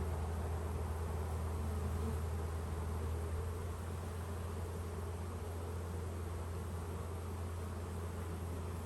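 Dense swarm of more than 20,000 honey bees, caught from a tree and being moved to a permanent hive, giving a loud, continuous, even buzzing drone that fills the whole stretch with no voices.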